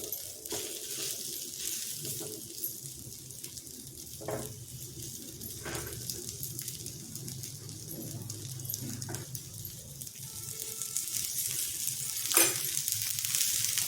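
A cutlet shallow-frying in oil on a medium flame, a continuous bright hiss and crackle that holds steady close by, with a few sharper spits and a slight swell near the end.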